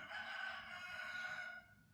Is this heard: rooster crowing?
yes